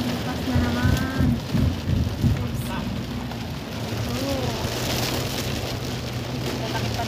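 Heavy rain falls with big drops while the sun shines, a dense close patter on surfaces. Faint voices are heard over it early on.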